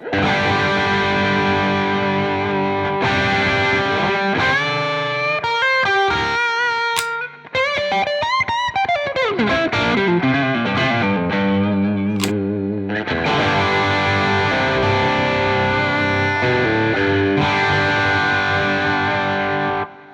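A loud electric guitar through a green overdrive pedal into a Marshall JTM45-style tone plays thick overdriven chords and a bending lead phrase, sustained and continuous, with no voices.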